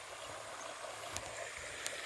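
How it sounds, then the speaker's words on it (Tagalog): A river flowing near Hinulugan (Hinolugan) Falls in Guinobatan, Albay, a steady broadband rush of water heard evenly throughout, faint and continuous with a couple of small splashes. "dito na po tayo sa ilog"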